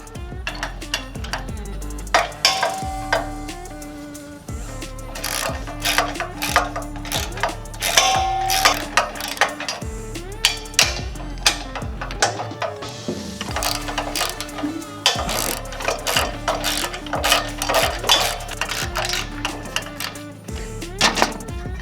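A hand ratchet backs bolts out of a vehicle jack mount during an electric jack install, with a steady run of close, sharp clicks in quick repeating strokes and a few metallic clanks.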